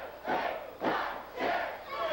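Pro wrestling crowd in an ICW arena chanting a count in unison with the referee, three loud rising shouts spaced evenly, each swelling and fading.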